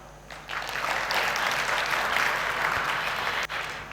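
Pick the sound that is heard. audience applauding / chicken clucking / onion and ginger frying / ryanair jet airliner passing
audience applauding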